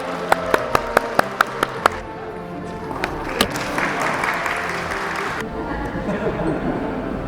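Audience applause at a safety competition: a few distinct sharp claps at first, then a denser burst of crowd clapping that continues and drops off abruptly near the end, leaving softer sound.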